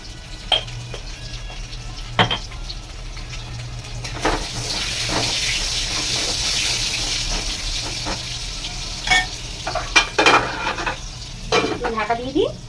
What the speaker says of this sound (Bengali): এবার আমি করবো আলু দিয়ে দেবো তেলের মধ্যে